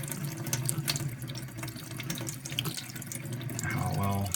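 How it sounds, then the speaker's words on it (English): A tap runs a light, steady stream of water over a WWI collar disc being cleaned, a continuous close splashing with a brief rising gurgle near the end as the flow pools in the sink. "I'm going to just turn the water on, just to a small little light stream"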